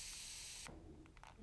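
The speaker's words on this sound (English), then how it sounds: "Let me spray your hair." An Aqua Mist spray bottle spraying fine mist: a loud, steady, close hiss of spray for over half a second, then it cuts off, leaving faint mechanical clicks from the trigger.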